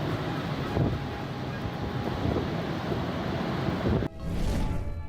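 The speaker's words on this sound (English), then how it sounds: "The wind was so powerful that it easily demolished the roof of a multi-story building." Powerful tornado wind tearing past, a loud continuous roaring rush with gusty surges and a brief dip near the end before it picks up again.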